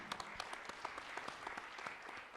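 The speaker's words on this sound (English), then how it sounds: "So one more big round of applause." Audience applause at a school board meeting: a faint, steady patter of many hands clapping, distant and even, with a few sharper individual claps standing out.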